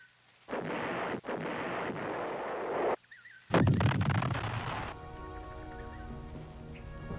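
Artillery guns firing in wartime, heard as heavy booming bursts with rumbling tails, a sustained roar, then a sharp loud blast followed by lingering echoing rumble.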